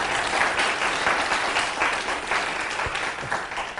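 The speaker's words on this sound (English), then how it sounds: "Everyone give a round of applause." Sustained audience applause fills the whole stretch at a steady level, dense and even clapping from a crowd with no talk on top.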